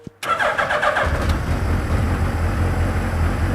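A turbocharged Mazda MX-5 fires up after a brief cranking whir, then settles into a steady, loud, close idle rumble that carries on evenly to the end, with no voices.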